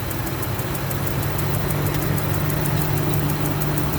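A 2008 Range Rover engine idling on a cold morning start, a steady low rumble with a fast, regular ticking repeating throughout, close and fairly quiet, with no talk.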